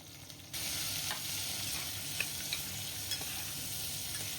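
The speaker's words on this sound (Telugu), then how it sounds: "ఉల్లిపాయల్ని ఇలా ఫ్రై అవనివ్వాలి." Sliced onions and chili strips frying in oil for gongura mutton biryani, a steady soft sizzle with occasional stirring clinks, close and continuous with no talk.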